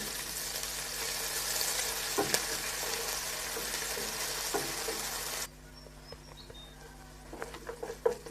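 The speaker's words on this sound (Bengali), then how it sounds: "এখন ভালোভাবে ভেজে নেব।" Garlic, ginger and onion fry in a pan in steady, close sizzling with occasional scrapes of stirring, then the sizzle drops much quieter near the end.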